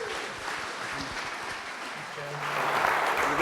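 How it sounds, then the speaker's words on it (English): An audience at a talk applauds, a dense wash of clapping that swells louder toward the end, with a voice speaking under it. "let's give a rousing Wingmen round of applause for Dr. Stephen Collins."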